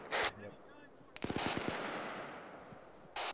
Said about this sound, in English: Sounded like a ZU. I only heard 2 cannons. Stationary ZU-23, maybe in one of these backyards.